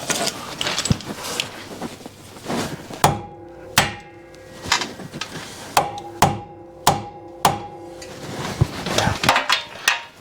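Sharp hammer strikes setting a rivet nut into the body panel of a 2025 Kawasaki Ridge Crew side-by-side, about ten ringing metallic blows in an uneven rhythm, close and loud with no talking.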